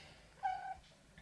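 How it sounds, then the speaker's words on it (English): A house cat lets out a single short, faint meow in a quiet room. "I'm just going to be meowed at now"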